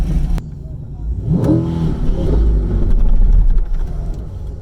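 A twin-turbo C8 Corvette launches on its first run at an LS Fest track day, a loud engine rumble rising as it revs and accelerates away, with a voice briefly over it.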